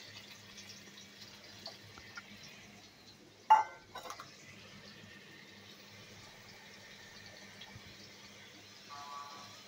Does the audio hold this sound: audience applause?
no